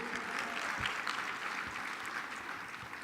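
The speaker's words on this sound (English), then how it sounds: "Give yourselves a round of applause." An audience at a national coalition academy graduation applauds the graduating class, a dense, steady wash of clapping heard from a distance with no standout claps, holding level throughout.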